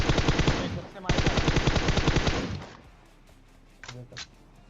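Automatic gunfire in PUBG Mobile: two loud sustained rapid-fire bursts close by, then a brief pause, quieter thumps and a couple of distant shots, with a voice speaking over it.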